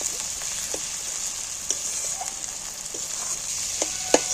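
Spice paste (masala) sizzles steadily in oil for a jackfruit curry cooked with goat fat, a continuous hissing fry broken by a few light clicks of a spatula, close and moderately loud with no voices.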